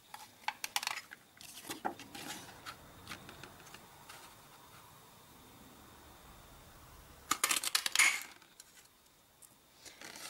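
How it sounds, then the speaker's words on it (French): A classic craft label punch cuts a paper tag for a handmade card, heard as a brief cluster of sharp clicks and snaps near the end, with scattered lighter paper handling taps earlier; close and fairly quiet, no talking. "je vais simplement venir le découper à l'aide de ma perforatrice étiquette classique"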